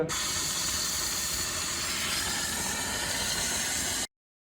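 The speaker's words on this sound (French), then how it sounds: "le nettoyage vapeur, ça décrasse" A steam cleaner blasts the air vents inside a smoker's car, a loud, steady close hiss that runs unbroken for about four seconds before cutting off abruptly.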